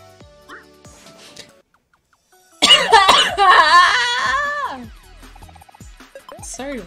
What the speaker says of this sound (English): sorry to like aggressively cough.